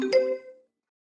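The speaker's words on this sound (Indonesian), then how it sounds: "Teleponmu berdering." A phone lets out a single short electronic chime that rings clearly on its own and fades away within about half a second.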